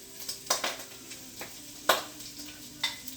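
Ground meat browning in a pan for lasagna, with soft sizzling, light stirring and several sharp clinks of a utensil against the pan, close and fairly quiet.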